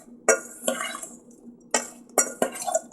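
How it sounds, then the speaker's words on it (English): Raw peeled, deveined shrimp tossed in a bowl with seasoning for a pineapple shrimp stir-fry, giving several sharp clinks and clatters of utensils against the bowl spaced across a few seconds, close and fairly clear with no talking. "We're just going to put it in a bowl here like this, right on the shrimp, and then toss."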